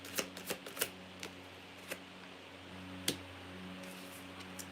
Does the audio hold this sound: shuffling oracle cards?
yes